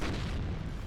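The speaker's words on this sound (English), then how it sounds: "Lots of explosions within the building there." Explosions inside a building in the video game WARNO: a dense, low, booming blast rolling on continuously for under a second, moderately loud, with no voices.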